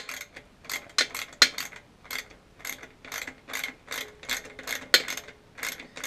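Rapid bursts of ratchet clicking while fasteners are tightened down on a Trol-A-Matic installation, each run of clicks coming in short, evenly spaced strokes, close and fairly loud with no talk.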